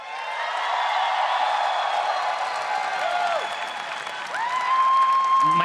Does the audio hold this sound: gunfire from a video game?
no